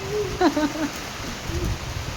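Summer storm rain falls in a continuous soft hiss with a low rumble beneath, and a person speaks briefly near the start.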